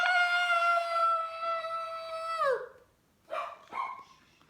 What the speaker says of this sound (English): But then came a yelp, someone calling for help.